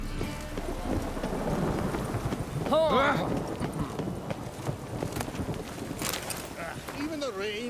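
Steady rain with rumbling thunder in The Witcher 3, a constant wash beneath horse hooves and a voice speaking over the storm.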